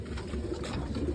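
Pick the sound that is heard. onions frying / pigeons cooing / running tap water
pigeons cooing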